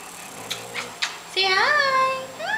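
Several dogs whimper and yip in short high-pitched bursts, then a longer rising whine and another whimper follow close by, with a person's voice talking in the background.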